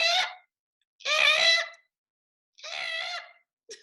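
Voices imitate a spotted towhee's call by mouth, three separate buzzy drawn-out calls with pauses between them in a quiet room.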